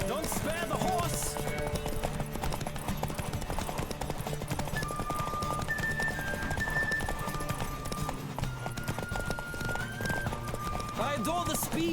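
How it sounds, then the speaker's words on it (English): Hooves clatter in a rapid, continuous gallop in The Witcher 3: Wild Hunt video game, with steady rhythmic thuds, beneath talking and background music. "Don't spare the horse!"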